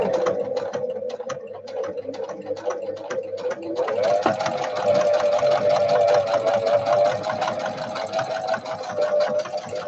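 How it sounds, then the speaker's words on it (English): Sewing machine stitching fabric for a small pocket book, starting with quick separate needle clicks, then speeding into a steady rapid whirring hum with dense ticking, close and loud. "we will sew this one, won't be hand sewing this"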